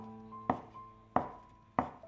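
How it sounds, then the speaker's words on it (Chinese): A knife chops a handful of lettuce into small pieces on a board: three crisp, evenly spaced chops, close and distinct, with no talking. "然后准备一把生菜切成小块"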